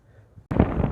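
Quiet low rumble, then a sudden loud burst of wind buffeting the microphone, roaring steadily for the rest of the clip, while magnet fishing for nails.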